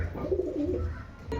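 Pigeons cooing softly in a short, low, murmuring phrase, with no other sounds.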